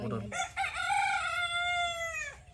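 A rooster crows once in a long drawn-out call, loud and close, with a brief cluck before it, on a garden homestead.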